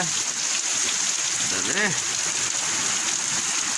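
Steady rain hisses across the whole clip, with a brief voice-like tonal sweep rising and falling partway through.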